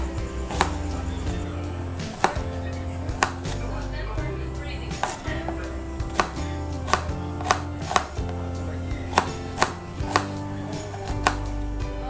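A knife chops an onion into small pieces on a cutting board, sharp knocks landing close in a steady, slightly uneven rhythm over a low background hum.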